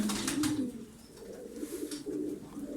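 Tumbler pigeons, smoky-coloured birds, coo in a soft, continuous rolling murmur close by, with several overlapping low calls running through the whole stretch and no talk.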